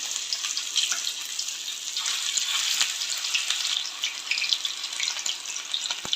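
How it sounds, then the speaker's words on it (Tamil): Chicken leg pieces fry in hot oil with a bright, crackling sizzle that runs continuously and close, dotted with small pops and spits, and no one talking. "இப்போ நம்ம லெக் பீஸை ஃப்ரை பண்ணி எடுத்துக்கலாம்."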